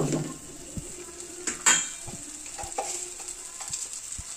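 Potato curry is stirred in a pan under a low, steady sizzle, with several distinct metallic scrapes and clinks of a spoon against the pan, close and moderately loud.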